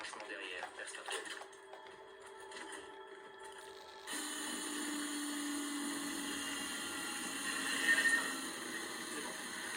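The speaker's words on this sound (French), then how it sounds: "Il faut percer le joint hydraulique." Drilling through a hydraulic seal in Call of Duty Ghosts: a steady, dense mechanical whine that begins abruptly partway through and runs continuously to the end. It plays over quieter game ambience and background sound.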